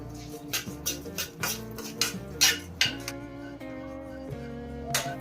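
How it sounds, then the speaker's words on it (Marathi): Rice roasting in hot ghee in a kadhai for quick rice kheer, with repeated metal clinks and scrapes of a stirring spoon against the pan in an irregular rhythm, close and moderately loud, no talking. "आणि तुपामध्ये तांदूळ चांगला आता आपल्याला भाजून घ्यायचंय"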